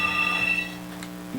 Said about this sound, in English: that's your phone. That's the phone.